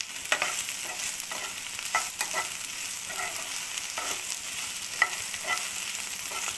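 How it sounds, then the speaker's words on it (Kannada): Sliced okra and onions sizzle steadily in hot oil in a pan, a close, even frying hiss broken by occasional scrapes and clinks of stirring, with no voices. "ಈ ಆಯಿಲಲ್ಲೇ ಈರುಳ್ಳಿಲೇ ಚೆನ್ನಾಗಿ ಫ್ರೈ ಮಾಡ್ಕೋಬೋದು ಇದನ್ನು"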